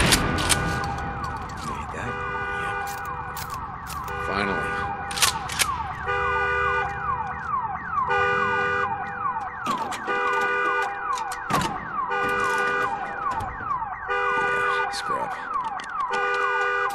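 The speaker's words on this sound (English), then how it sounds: "Damn alarm." In the video game Days Gone, an alarm siren blares in repeating, sweeping wails with gaps and bursts between them, loud and continuous, while faint voices occasionally come through.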